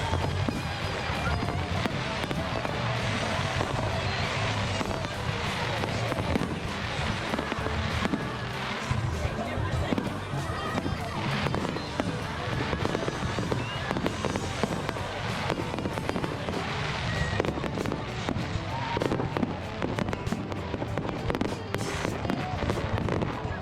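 Fireworks at a summer festival in Australia, a dense continuous barrage of loud bangs and crackles from nearby, with faint crowd voices mixed in underneath.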